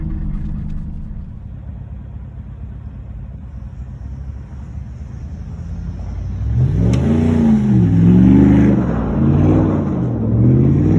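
A 2016 Chevrolet Silverado pickup with a straight pipe exhaust idles in a low, steady rumble, then is revved hard in several rising and falling surges, loud and close.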